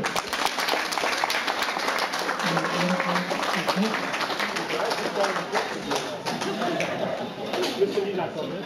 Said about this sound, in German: Applaus, Renate!